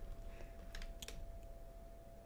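Typing on a computer keyboard while writing Minetest mod code, a few quiet scattered key clicks over a steady electrical hum.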